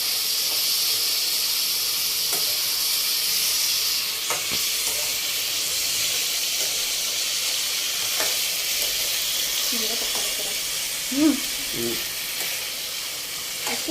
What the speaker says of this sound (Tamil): இப்போ கொஞ்சம் வதக்கலாம். ஓகே, கொஞ்சம் இப்போ நம்ம வதக்கலாம்.